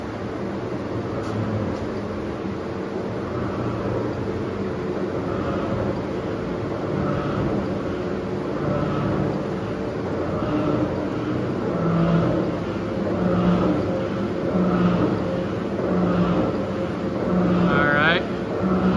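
Komatsu 165-ton press running continuously as it speeds up, a steady mechanical hum and drone with rhythmic cycling that continues throughout, with people talking over it.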